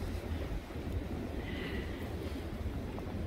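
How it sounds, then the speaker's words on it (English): Cold winter storm wind blusters across the microphone at a camper site in Oklahoma, a steady low roar with gusty rumbling and no voices. "The wind is very cold."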